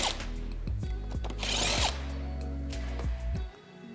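A power tool runs in short bursts while removing the three coupler bolts from a TG 8 grinding head, spinning up and stopping several times with a louder stretch midway, close by and without talk.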